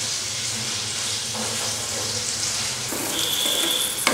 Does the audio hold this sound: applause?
no